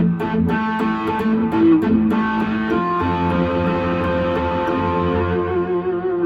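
Electric guitar tapping through heavy distortion with echo and effects, played in a rock style: rapid repeated sustained notes ringing over a steady tone, loud and continuous with no talking.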